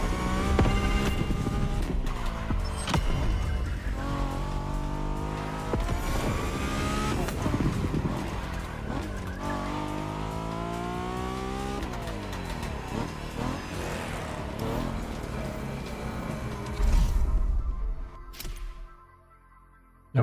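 Mustang GT Fastback Stunt Edition in The Crew Motorfest, engine revving hard and climbing through gears with repeated rising pitch sweeps and shifts, loud and continuous, then fading out near the end.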